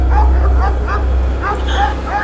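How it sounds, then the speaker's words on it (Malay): A dog barking non-stop near a house at night, a quick run of sharp, fairly close barks in an uneven rhythm over a constant low hum, with faint voices in the background. "tiba-tiba anjing dia menyalak, tidak berhenti-henti"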